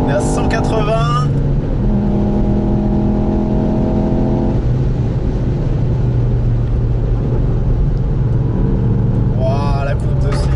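A 2018 Ford Fiesta ST three-cylinder engine revving hard on a racing circuit, with rising and falling engine tones, a steady high-speed drone in between, and someone talking over it.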